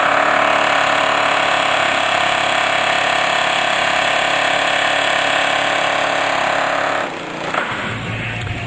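A pneumatic air hammer pounds continuously and loud on a MINI Cooper control arm bushing, a steady dense rattle for about seven seconds before it stops abruptly, leaving quieter shop noise.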